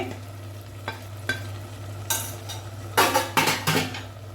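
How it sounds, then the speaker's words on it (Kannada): Fried dry fruits being stirred into carrot halwa made with ghee, with sporadic scrapes and clinks of a spoon against the pan that turn louder and busier toward the end, over a steady low hum and no talking. "ಇದನ್ನು ಚೆಂದ ಮಾಡಿ ಮಿಕ್ಸ್ ಮಾಡುವ ನೋಡಿ"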